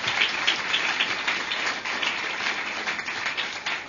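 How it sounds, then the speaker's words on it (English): An audience applauds the Board of County Commissioners at the Josephine Commons grand opening, a dense, steady patter of many hands clapping that holds throughout. "let's just give them a round of applause"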